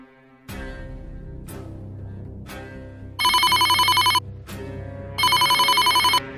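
A mobile phone rings with an incoming call, loud electronic ring bursts in two long patterned stretches following several sharp knocks, close by in a quiet room, no voices.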